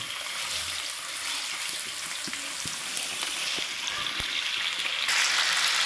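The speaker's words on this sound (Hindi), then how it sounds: "मैं अच्छी तरह से चिकन को करूँगी फ्राई कलर आने तक" Chicken pieces, about a kilo, sizzle steadily in hot oil with a constant hissing crackle and occasional sharper pops, close and fairly loud with no voices.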